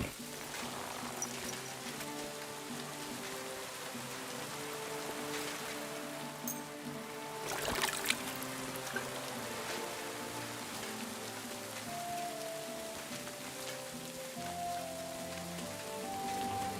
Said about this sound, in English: Pissing down rain.